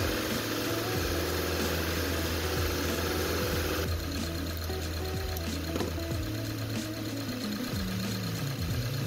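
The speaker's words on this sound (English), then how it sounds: "go run the engine up at about 2000 RPM" A Subaru engine is held at about 2000 RPM during throttle body cleaning with top end cleaner, giving a steady, loud mechanical drone with a constant hum and no talking.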